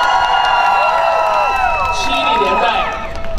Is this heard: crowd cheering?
yes